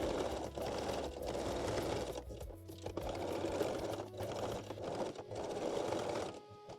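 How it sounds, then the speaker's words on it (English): A sewing machine stitches a bra closure onto a bralette with a fast, steady mechanical whir and needle rattle, faint but continuous, with brief pauses around the middle. "And sew the bra closure in a place. You can use zigzag or straight stitch."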